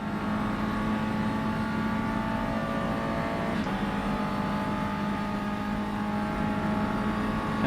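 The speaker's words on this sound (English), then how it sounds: "we'll just listen to this car roar all the way down this first straight" A race car engine in the rFactor 2 racing game roars continuously at high revs down a straight, a steady loud drone with a brief gear shift midway, no voices.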